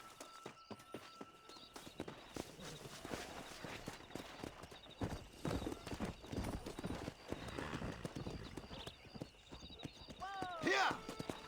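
Horse hooves clip-clop steadily while riding in Red Dead Redemption, close and rhythmic, with a horse whinnying near the end and someone talking over it.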